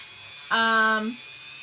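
A short high-pitched motor whine from a Dremel rotary tool smoothing plastic, rising sharply and running steadily for about half a second before cutting off.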